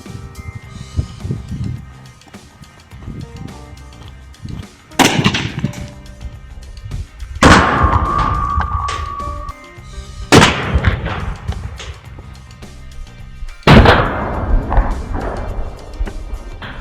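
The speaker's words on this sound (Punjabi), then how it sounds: "ਭਾਈ ਪਹਿਲਾ ਫਾਇਰ ਕੀਤਾ ਆਪਾਂ ਟੀਮ ਤੇ" A mini cannon fires shots at a target, giving about four sharp, loud bangs spaced a few seconds apart, each followed by a short decaying rumble, with quieter background noise between the blasts.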